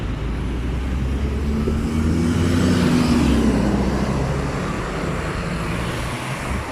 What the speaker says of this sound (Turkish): Belediye otobüsüne yol verelim.